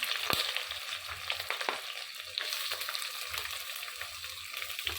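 Onion, green chillies, garlic and spices sautéing in a pan for a seer fish curry: a loud, steady oily sizzle broken by scraping stirring strokes, with no one talking.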